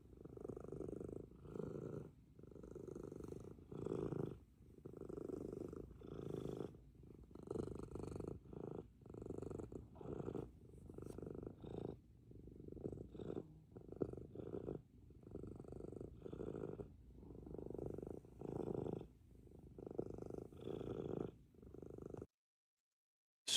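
A relaxed cat purrs close and softly, in an early morning, with an even rhythm of rumbling breaths, each lasting about a second, repeating for over twenty seconds and then going silent.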